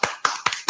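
Four sharp hand claps land at an even pace, loud and close.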